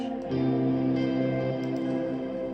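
Electric guitar plays a higher chord voicing that swells in and hangs with heavy reverb, smooth and sustained with no voices.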